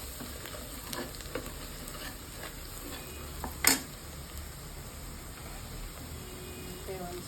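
Chili powder and coriander powder frying in a pot for chicken curry, a low steady sizzle with a few faint stirring scrapes and one sharp metallic clink midway.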